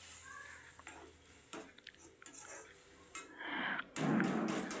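Masala being stirred and fried with chicken stock in a pan for garlic pepper chicken, with a spoon scraping and clattering against the pan in scattered bursts, then a louder steady sizzle toward the end.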